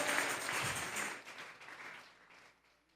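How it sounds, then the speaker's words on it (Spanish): A church congregation gives a round of applause offered to God, loud dense clapping at first that thins and fades away over a few seconds. "Vamos a regalarle ofrenda de palmas al Dios de la gloria."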